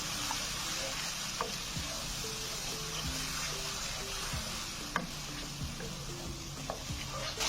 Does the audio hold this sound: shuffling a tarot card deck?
no